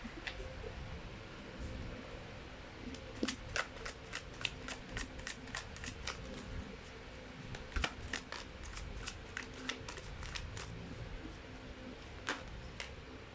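Tarot cards are shuffled and drawn by hand in a quiet room, giving bursts of rapid, crisp riffling clicks and flicks in irregular clusters with short pauses between, close and fairly soft.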